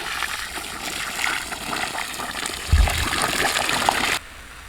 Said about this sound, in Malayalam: ഇനി ഇതിനകത്തോട്ട് കുറച്ച് വെള്ളം കൂടെ ഒഴിച്ചു കൊടുക്കാം